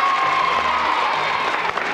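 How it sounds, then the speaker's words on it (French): A short burst of loud applause with some cheering from the audience of a children's television show, a steady dense clapping texture with no pause. "On les applaudit très fort."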